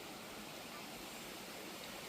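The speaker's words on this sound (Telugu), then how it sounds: "ఇవైతే తాటిగూడ వాటర్ ఫాల్స్ అండి." The Tatiguda waterfall at Araku gives off a constant, dense roar of rushing water that fills the whole moment without letting up.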